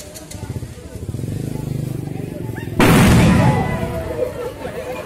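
Paper firecrackers set off for Eid al-Fitr: one loud, close bang that fills the whole range, then a rattling tail and scattered crackles, with an engine-like drone and crowd murmur underneath.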